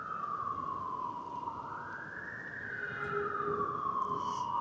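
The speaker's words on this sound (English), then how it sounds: "cops and sirens, and that's the only noise you get to hear a lot" Police siren wailing across central London at night, a rising and falling tone heard at a moderate distance over steady city background noise.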